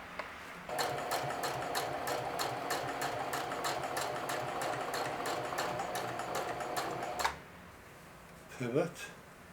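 A sewing machine stitches a denim watch pocket onto a denim shield in one steady run of rapid, even needle strokes lasting several seconds, then stops, followed by a brief fabric rustle; close and moderately loud.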